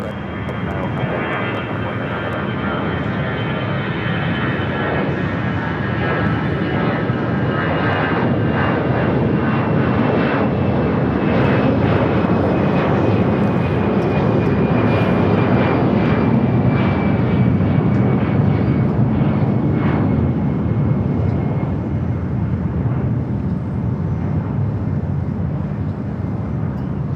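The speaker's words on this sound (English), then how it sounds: "Delta 767 rolling down at 7 left as that Queen touches down at 7 right." Delta Boeing 767 jet rolling down the runway at LAX, a loud, sustained engine roar with a rising whine running the whole time, steady and close.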